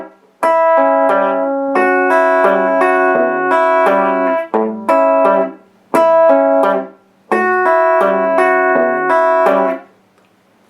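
Rockabilly fingerpicked electric guitar lick opening with a double stop, with open strings giving a pedal-steel-like ring; several bright picked phrases separated by short muted gaps, played close and clear with no voices.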